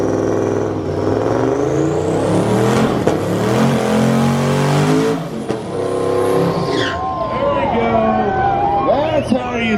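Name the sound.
Garrett running Ruby, car with new motor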